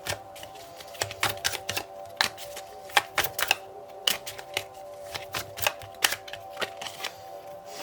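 Tarot cards are shuffled and drawn up close, producing a steady series of quick riffling flicks and soft slaps in an irregular rhythm, with a faint tonal hum in the background and no talking.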